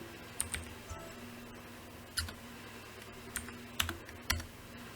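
Computer keyboard typing while configuring a router, with sparse, quiet individual key clicks in irregular bursts against a faint background hum.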